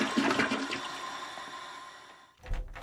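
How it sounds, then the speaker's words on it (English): A toilet flushes in a video game, a rushing water surge that swells at the start and gradually drains away, ending with a brief thud, with no talk over it. "Oh, an actual toilet flush."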